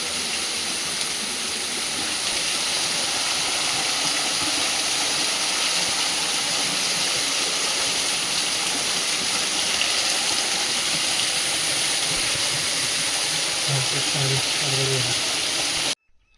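Water flows inside a cave near the Jayanti Mata temple in the Lakkadkot forest, making a steady, loud, close rushing roar that never lets up, then cuts off abruptly at the end.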